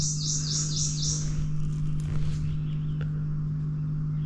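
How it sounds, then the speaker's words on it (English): Birds chirp outdoors beside a lake during an ultralight fishing trip, a few bright high twittering calls early on that thin out, faint over a steady low hum. "it's gonna be listening to these birds chirp"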